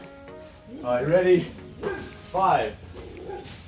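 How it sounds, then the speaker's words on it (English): Dogs bark a few times in short bursts indoors during a kids' home workout, heard under a woman calling out exercise counts. "Excuse my dogs."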